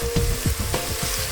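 Fresh chopped onion hits a hot pan with a steady sizzle, punctuated by a few short scraping stirs; no one speaks.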